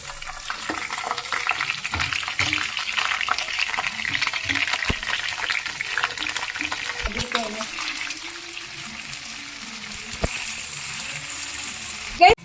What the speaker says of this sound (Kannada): ಇವಾಗ ಫ್ರೈ ಆಗ್ತಾ ಇದೆ